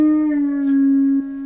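A single guitar note on the second string rings out clearly and sustains steadily, close and alone, with a faint touch partway through.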